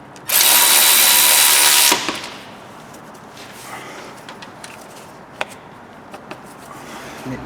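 A power tool drives a bolt back into an AC line bracket on a 1.8 petrol Ford Focus, giving one loud, steady whirring burst of about a second and a half, then quiet workshop clicks and handling noises.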